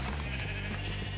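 A sheep in the Minecraft video game lets out a bleat over a steady, fairly loud game background.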